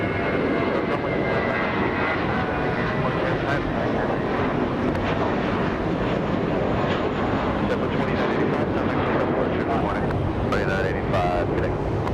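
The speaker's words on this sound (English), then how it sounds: "JetBlue's 2985 to Miami, taking off right now, lifting off." A JetBlue Airbus A321 takes off at Los Angeles International Airport, its engines producing a loud, sustained broadband roar that fills the whole stretch, with wind buffeting the microphone.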